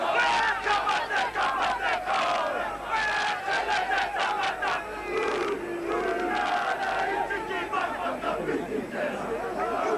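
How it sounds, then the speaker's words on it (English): A New Zealand rugby league team performs the traditional haka at Carlaw Park, with rhythmic, forceful shouted chants over crowd noise, while a commentator talks over it. "And here's the traditional haka"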